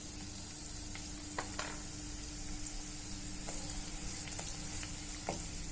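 Chili, turmeric and a little garam masala frying in a pan for a bean vegetable dish, giving a steady, close sizzle and hiss with a few light stirring clicks scattered through.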